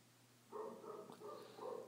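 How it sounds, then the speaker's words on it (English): A dog barks outdoors, heard faintly from inside in a few short, muffled bursts over a quiet background. "And Molly's barking out there"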